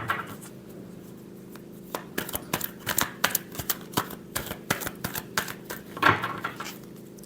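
Tarot cards being shuffled by hand, a run of soft, uneven slaps and riffles that grows busier midway, close and moderately quiet, with no talking.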